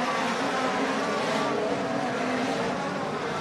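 Midget race cars roar around the Plymouth Dirt Track in Wisconsin, a continuous dense engine buzz from the pack at racing speed, moderately loud with faint commentary blended in.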